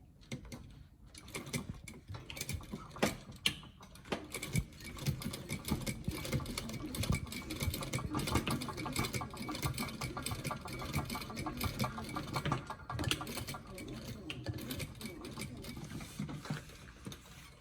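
A sewing machine stitches a linen lining with a steady, close mechanical whirr and rapid ticking of the needle mechanism. It runs almost continuously for the whole stretch, with no talking.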